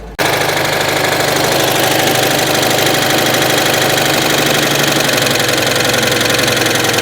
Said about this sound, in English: as you can probably hear, we've still got a high idle going on